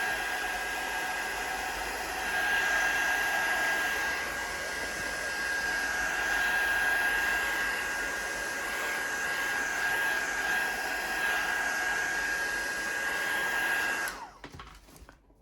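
A hair dryer blows steadily on paint for about fourteen seconds, a loud continuous whooshing roar with a thin whine, then cuts off abruptly into near silence.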